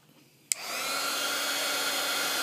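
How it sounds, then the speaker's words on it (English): A handheld craft heat tool is switched on with a click and blows a steady, loud whooshing hum while drying a scrunched craft flower on a wooden dowel. No one speaks. "and dry it with my heat tool"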